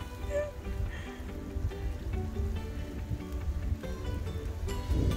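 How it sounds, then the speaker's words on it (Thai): Rain falls steadily in front of a house where marigolds are planted, a continuous close hiss of drops on surfaces with no voices. "มาแล้วค่ะฝน"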